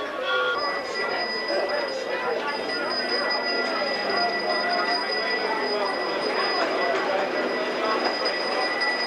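A small miniature train ride at the Denver Zoo rolls along with steady clattering wheels and metallic squeals, while people talk faintly in the background.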